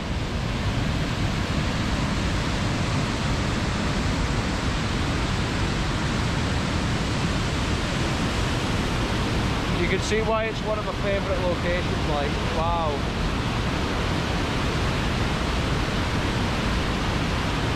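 A dense, loud roar of the Reekie Linn waterfall on Scotland's River Isla fills the scene continuously, while someone speaks briefly over the steady rush partway through.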